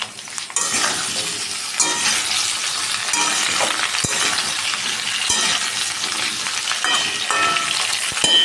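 Potato pieces frying in a pan alongside pointed gourd, a steady loud sizzle with occasional clinks and scrapes from stirring, close up and with no talking.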